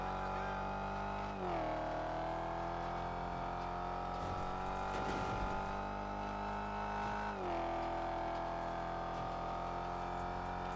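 A heavy police car in GTA 5 drives with a steady, loud engine drone, its pitch dipping at two gear shifts before climbing again. No talk is heard.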